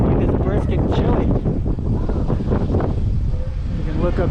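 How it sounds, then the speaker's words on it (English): Wind buffets the microphone in loud, rumbling gusts outdoors in Marble Falls, Texas, a continuous blustery roar with bursts of rustling. "It's super windy out there. The wind is brisk and chilly."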